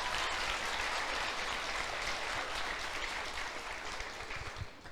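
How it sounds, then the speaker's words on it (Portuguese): Church congregation applauding during a sermon, a dense continuous wash of clapping that stays loud throughout and thins slightly toward the end. "Aplauda o Senhor, porque isso aqui é uma igreja linda"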